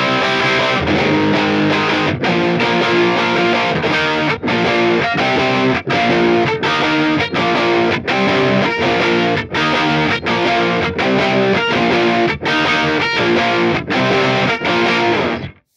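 Distorted punk rhythm guitar through a Line 6 Helix with stereo spread and a Marshall amp model, loud driving chords in a steady rhythm with regular short stops, playing alone.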